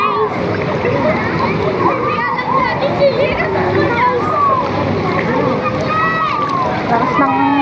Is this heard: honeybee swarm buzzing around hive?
no